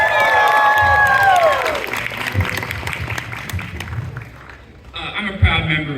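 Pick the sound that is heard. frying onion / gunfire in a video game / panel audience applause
panel audience applause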